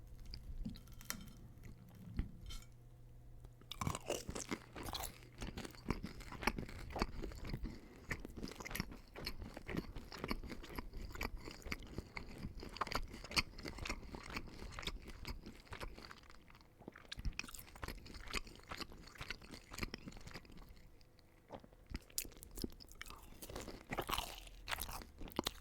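Close, steady crunching and chewing of Domino's loaded tater tots goes on without pause, with dense crisp bites and wet mouth sounds, loud and intimate with no talking.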